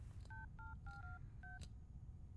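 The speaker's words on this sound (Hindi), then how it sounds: "जिग्नेश को फोन करता हूँ." A quick series of touch-tone dialing beeps, about five short tones in an uneven rhythm, fairly quiet over a low steady background hum.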